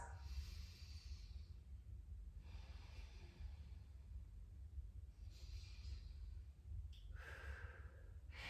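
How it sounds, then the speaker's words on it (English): Slow, quiet breathing during a yoga hold, with soft airy inhales and exhales that come and go in several long waves over a low background hum. "Take a big deep breath. Empty out."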